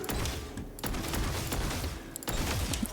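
Rapid gunshots at practice bots in the Valorant shooting game, a dense run of sharp close-range shots with a couple of short pauses between bursts.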